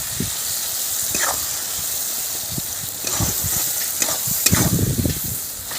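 Spices sautéing with onion and tomato in a pan, a steady sizzling hiss punctuated by scraping stirs and soft bubbling pops, close and fairly loud with no voice.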